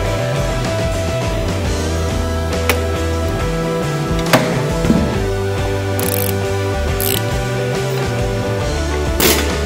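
Loud mechanical clatter of a ratchet removing a motorcycle swing arm, steady rattling and clicking with occasional sharp metallic knocks, close up.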